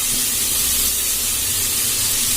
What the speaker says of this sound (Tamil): இது எல்லாத்தையும் போட்டு ஒன்றா போட்டு வதக்கும்.